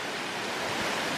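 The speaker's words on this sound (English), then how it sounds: "I just realised it's really windy" Strong wind blowing outdoors, a steady broadband roar buffeting close by without a break over a brief moment, with no voices.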